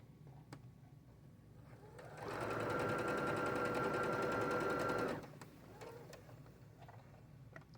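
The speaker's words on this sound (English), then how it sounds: "So I'm going to sew the basting stitch at 5/8 of an inch up to here." Sewing machine running a long basting stitch at a 5/8-inch seam allowance while installing a centered zipper, one steady mechanical whir of about three seconds rising out of a quiet room and stopping abruptly.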